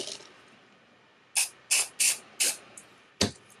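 Lubricating oil sprayed from an aerosol can into a rifle barrel during cleaning of a Savage 64 Precision: five or six short, sharp hissing bursts in quick succession, close and fairly quiet, with a pause before the last.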